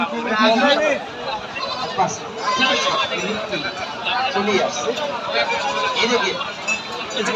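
Goats bleat repeatedly among a crowd at Baneshwar livestock market in Rajshahi, with frequent calls mixed into steady chatter and people talking nearby.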